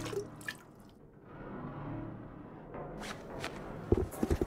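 Water is collected in The Long Dark video game with soft trickling and pouring, a few brief drips and clinks near the end, and faint shuffling footsteps under a quiet ambience.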